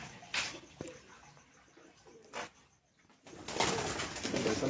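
A King (Badshah) breed pigeon coos on a rooftop, giving a few soft, brief calls over faint outdoor background noise that grows louder toward the end.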